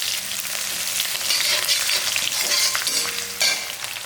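Crushed garlic frying in hot oil for a snake gourd and papad kootu, giving a bright, continuous hiss with a few stirring scrapes and a brief louder flare near the end.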